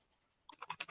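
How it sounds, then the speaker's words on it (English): Someone types on a computer keyboard: a quick, even run of clicks starts about halfway through after near silence, close by but fairly quiet, with no voices. "Oh, we know when you're typing."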